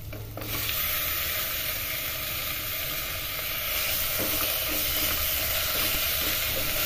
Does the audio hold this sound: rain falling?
no